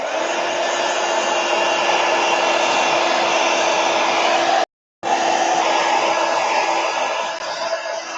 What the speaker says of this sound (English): I'm going to hit this with a heat gun real quick